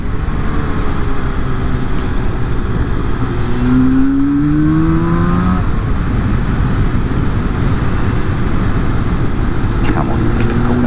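A Yamaha RD350LC two-stroke motorcycle on the road, its engine droning loud and steady with a rising pitch as it pulls through the gears, wind rush close throughout.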